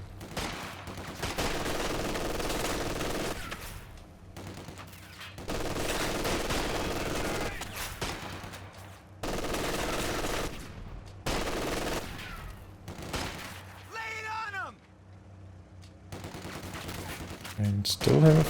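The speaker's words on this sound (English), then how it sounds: "Machine gun suppresses after the first burst" Machine gun fire in the wartime strategy game Company of Heroes 2, heard as several loud sustained bursts separated by short pauses, with a few scattered single shots and other battlefield effects near the end.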